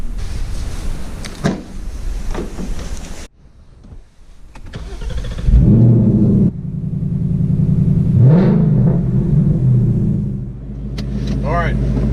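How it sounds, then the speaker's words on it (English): A 2018-2019 Ford Mustang GT with a Pedalmax installed: a door thunks shut, the engine cranks and fires with a loud rev, then settles into a deep idle and pulls away, with brief talk mixed in. "let's jump in the car, turn it on, go for a ride,"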